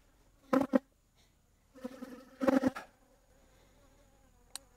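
Defensive bees from a disturbed hive buzz past in a few short, close bursts separated by near silence, with one brief faint buzz at the end.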